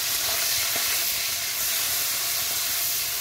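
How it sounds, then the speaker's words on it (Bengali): Prawns hit a hot pan and set off a loud, steady hiss of steam and sizzle that runs unbroken and close, with no talking over it. "দেখুন চিংড়ি মাছটা দিয়ে দিচ্ছি"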